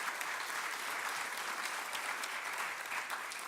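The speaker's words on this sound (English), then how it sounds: "May I kindly invite everyone to just give us one more round of applause for Professor Padat" A conference audience gives a round of applause after a professor's talk, with dense, even clapping that holds steady for several seconds and sounds moderately distant.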